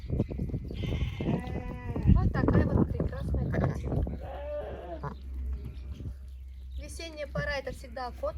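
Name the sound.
sheep bleating on a farm in Uzbekistan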